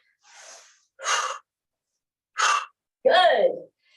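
A person breathes hard in and out during a walking workout. Four distinct breaths, sharp inhales and puffing exhales, sound close to the mic with short silences between them.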